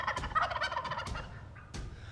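Wild turkeys gobble in a pine flat, a fairly close, rolling gobble followed by a shorter second call.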